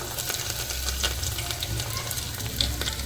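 Potatoes, carrots and onion fry in a pan with a loud, busy sizzle, crackling spits and scraping stirs layered over a low steady hum from nearby.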